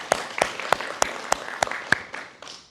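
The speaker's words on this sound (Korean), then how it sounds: "감사하시면 하나님께 영광의 박수 올려드립니다" Scattered, separate hand claps from a church congregation at a Sunday sermon, about nine sharp claps in a loose rhythm, with light background murmur trailing off at the end.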